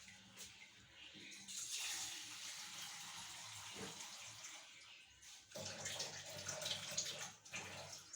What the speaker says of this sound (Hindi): अब जो हम इसमें पानी ऐड करेंगे